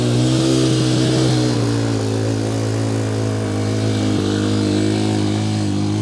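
Steady drone of a TAO TBR7 250cc dual sport motorcycle engine while riding, loud and close, holding an even hum with slight shifts in pitch, no talking.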